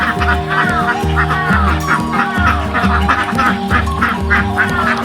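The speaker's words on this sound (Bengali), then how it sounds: "হাঁসগুলো এই বেডের ভিতরে থাকে" Native desi ducks on a duck farm, penned in a netted bed, quack and honk in a loud overlapping chorus, many birds calling repeatedly and close by without pause.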